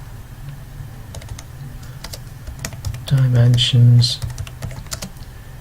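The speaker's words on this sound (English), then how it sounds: "I can now start to type" Typing on a computer keyboard while setting up a drawing title block, heard as soft, irregular key clicks at close range, with someone speaking briefly over them partway through.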